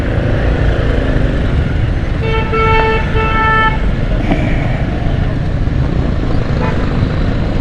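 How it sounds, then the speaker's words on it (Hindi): Busy road traffic after rain near Five Star Chowrangi, with a steady roar of passing vehicles and a loud, close car horn tooting in two bursts, followed by a fainter honk, no talking. "ये हाल हो रहा है ट्रैफिक का भी।"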